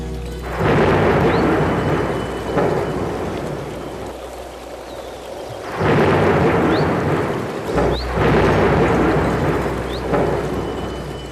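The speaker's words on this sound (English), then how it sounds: "there came a severe storm." Severe thunderstorm with steady heavy rain and repeated rolling thunder crashes that swell and fade several times, loud and close, with no voices.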